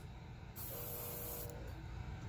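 Airbrush spraying a paint gradient over a stencil for a basket weave pattern, a single close, steady hiss about a second long that starts and cuts off abruptly, with no talking.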